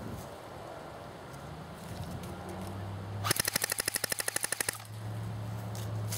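An AGM MP007 MP40 airsoft AEG on an 8.4 volt battery fires a fast full-auto burst of about fifteen evenly spaced, sharp cracks lasting around a second and a half, close and loud over outdoor wind.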